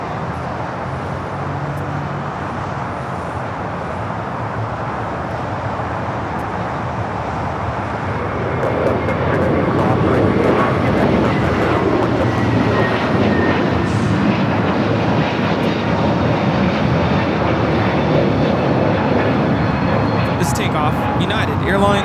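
An Air China Cargo Boeing 777 freighter takes off at Los Angeles airport, its broad jet roar building and swelling louder midway, then holding strong as a voice talks over it.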